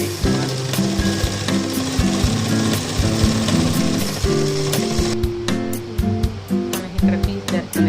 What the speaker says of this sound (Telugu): నడుము పట్టి కింద కుట్టేసాక మళ్ళీ పైన కూడా కుట్టేసుకోవాలి.